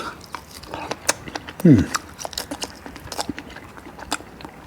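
Close-up chewing on a bite of steak, soft wet crunches and a sharp bite near the middle, with a voice murmuring through it.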